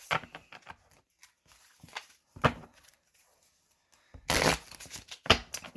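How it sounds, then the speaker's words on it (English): A deck of Romance Angel oracle cards is shuffled during a new moon reading: soft, close bursts of riffling and sliding cards come in short, irregular clusters separated by quiet gaps. "Now we'll pick your Romance Angel cards."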